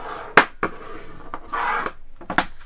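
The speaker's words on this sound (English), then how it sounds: "Just going to fold and burnish with my bone folder." A bone folder scrapes and rubs along folded cardstock while burnishing a card base, giving several short raspy strokes and one longer smooth rub, close and clear with no voices.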